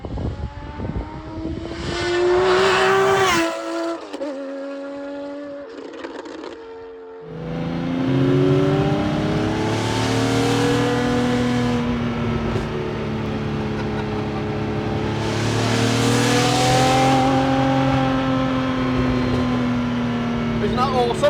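A Ferrari F50 fitted with a Capristo exhaust drives by at speed, its engine roaring loud and close through rising and falling revs, with a brief lift-off quiet before the howl builds again.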